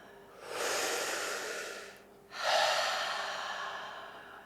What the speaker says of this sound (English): Fully in, softly out. Stay with the breath.